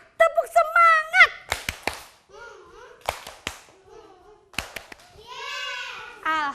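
Children in a first-grade classroom perform a rhythmic clapping chant, sharp bursts of hand claps set between sung and shouted young voices, close and lively with pauses between phrases.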